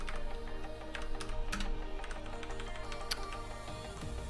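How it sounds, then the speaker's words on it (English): Fingers type on a computer keyboard while someone writes C++ code, producing quiet, irregular key clicks in short bursts over a low steady background hum. "my typing is really bad today."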